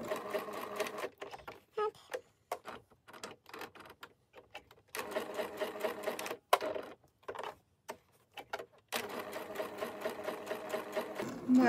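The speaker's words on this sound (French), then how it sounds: "je vais me mettre en vitesse lente. Et ça va nous permettre de vraiment voir où on va quand on coud" A sewing machine stitches at slow speed, close up, in short irregular bursts of rhythmic needle clatter separated by pauses, with a longer steady run toward the end.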